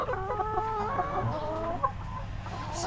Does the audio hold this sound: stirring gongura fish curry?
no